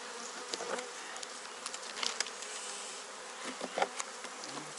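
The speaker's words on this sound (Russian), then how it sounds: "Да, когда много пчел, это хорошо." Dense, steady buzzing of many honey bees swarming around an open hive during a spring inspection of a weak colony, with individual bees zipping close past now and then.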